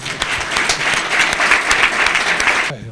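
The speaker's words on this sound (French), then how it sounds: "moi j'applaudis déjà pour vous alors" Loud, dense applause from a gathering at a football team send-off fills the space with rapid overlapping claps, then cuts off abruptly near the end.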